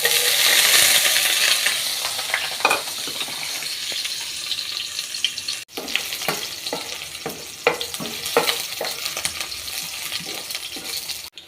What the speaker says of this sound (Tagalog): Ilalagay ko na yung bawang at saka sibuyas.